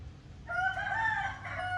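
A rooster crows once, a clear, drawn-out call from a short distance over quiet farmyard background at a village near Devakottai.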